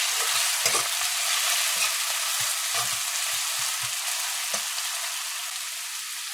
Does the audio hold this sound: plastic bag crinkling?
no